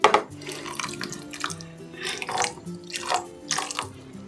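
Water is poured into a pan of cooking vegetable curry, producing uneven splashing and trickling bursts, close and moderately loud, with no talk.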